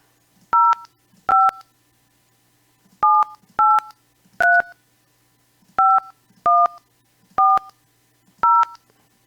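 Telephone keypad dialing tones, nine distinct two-tone beeps in uneven bursts with short gaps, clear and close with no talk.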